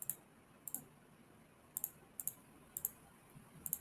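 A computer mouse clicks quietly while working in an Excel spreadsheet, mostly in quick double-clicks spaced a second or so apart, with no other sound.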